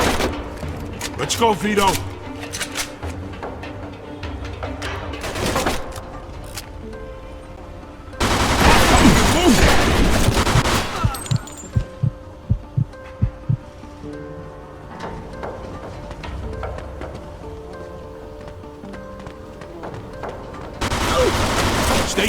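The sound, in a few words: gunfire in the video game Mafia II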